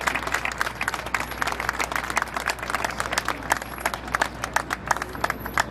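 Applause for an ambassador after her speech at an African Union flag-raising ceremony in New York, dense sustained clapping from a crowd, loud and steady for several seconds with no talking.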